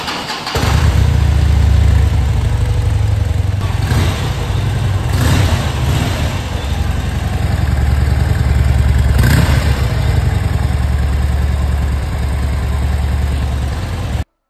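A Harley-Davidson Fat Bob motorcycle engine is started and left idling, a loud, close, steady low rumble that runs almost the whole time with a few brief surges before cutting off at the end.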